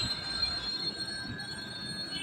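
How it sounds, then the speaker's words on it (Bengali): An express train slows almost to a halt for a red signal, with steady rumbling and a high, sustained wheel squeal over the rails, continuous and fairly close. "মনে হচ্ছে সামনে সিগনাল রেড আছে তাই একদম স্লো হয়ে গেছে ট্রেনটি"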